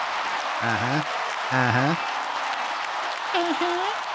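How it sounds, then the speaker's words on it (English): An audience claps and cheers in a dense, steady wash of applause that carries through the whole stretch, with a few voices calling out loudly over it. "Let's get some applause."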